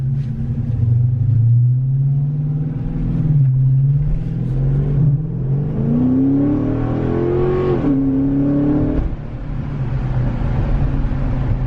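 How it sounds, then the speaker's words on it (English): A car with about 533,500 miles on it runs with a steady exhaust drone, its engine note rising and falling as it drives and turns, close and continuous with no talk. "I just hear the exhaust"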